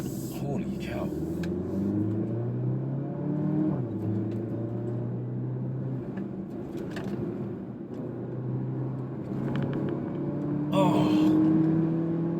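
A 2019 Porsche Macan SUV with a 2.0L four-cylinder engine is driven hard through corners, its engine rumbling and revving up and down steadily while someone talks over it.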